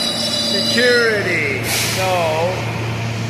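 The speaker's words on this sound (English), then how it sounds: "Look, the train is arriving." A New York City subway train pulls into the station with rising and falling wheel squeals over a steady rumble, then a loud hiss of air brakes. Someone speaks briefly nearby.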